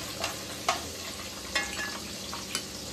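Cumin and crushed garlic fry briefly in a pan with a soft, even sizzle, punctuated by a few crisp clinks of a spoon striking the pan at intervals.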